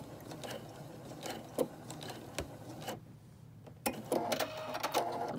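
A sewing machine runs a straight line of quilting stitches with a quiet, busy mechanical chatter and small clicks, pausing briefly midway before resuming. The sound is soft and heard alone.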